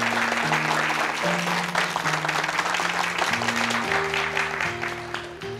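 A group of people clapping together at a meeting: a dense, steady wash of applause that runs the whole time under sustained musical tones and eases slightly at the end.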